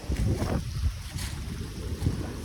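Gusty wind buffeting the microphone while jogging near North Cemetery, low and rumbling with uneven bursts, outdoors and no voices.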